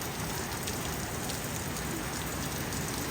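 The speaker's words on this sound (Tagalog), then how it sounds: "Sana tumigil na ang ulan." Steady rain falls on a surface during a rural rainy evening, a dense, even patter that holds at moderate loudness throughout with no voices or other sounds over it.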